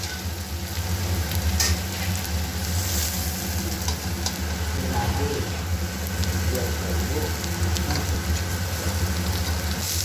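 Onion with ginger and green chilli sizzles steadily in a little oil while being stirred, a continuous close frying hiss with faint scraping throughout.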